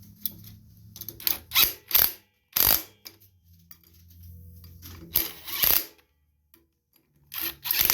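Ratchet clicking in short bursts while tightening bolts on the pulley of a 2007 Wacker WP1550 plate compactor during a belt change, close and fairly faint with pauses between strokes.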